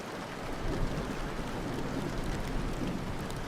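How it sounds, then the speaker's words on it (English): Heavy rain patters against a window in a steady, dense wash of drops, continuous and fairly close, with nothing else over it. "the rain continued to fall heavily, the sound of raindrops pattering against the window"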